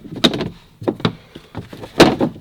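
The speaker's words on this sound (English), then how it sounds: "you just put this trap door back on" A metal trap door is fitted back onto a Club Car golf cart, producing a few loud, close clunks and rattling knocks with brief pauses between them, with no one talking.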